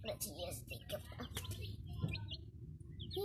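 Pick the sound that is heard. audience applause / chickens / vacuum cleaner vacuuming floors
chickens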